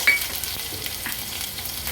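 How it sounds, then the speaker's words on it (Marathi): Ginger, garlic and chili paste dropped into hot tempering oil with mustard seeds, cumin and curry leaves, giving a steady close sizzle and fry with light stirring, no talk. "आलं लसूण मिरचीचा क्रश आहे हा हा फोडणीला घालते"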